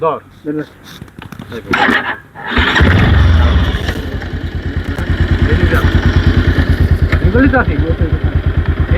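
A motorcycle on the steep mountain road from Thanchi to Alikadam, Bangladesh's highest road, with handling clatter and speech first, then the engine starting and settling into a loud, close, steady throbbing run.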